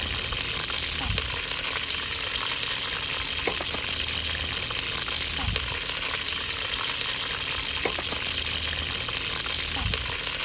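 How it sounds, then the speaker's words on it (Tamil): A little fenugreek seed crackles in hot oil in a clay pot for a village-style fish curry, an even, fairly loud frying hiss with soft low knocks every few seconds. "எண்ணெய் நல்லா சூடானதுக்கப்புறம் நான் வந்து அதில் கொஞ்சமாக வெந்தயம் சேர்த்துக்கிறேன்."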